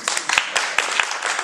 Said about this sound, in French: Applaudissez ce beau geste